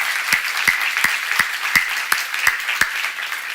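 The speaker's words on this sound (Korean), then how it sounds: "박수 좀 쳐요," Church congregation clapping in a steady, sparse rhythm of about eight sharp claps, close and fairly loud, with no talking over them.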